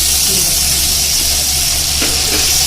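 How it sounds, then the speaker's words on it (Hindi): Spices and masala with green and red chilies, salt and turmeric frying in a pan for shola, a loud continuous sizzling hiss close up, with no talk. "इसका मसाला भूनेंगे 2-3 मिनट"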